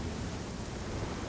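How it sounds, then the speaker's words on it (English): Steady, dense rain noise in a Legend of Zelda video game fills the clip, a constant hiss and patter with no pauses, moderately loud and uninterrupted by voices. "Oh, it's raining now."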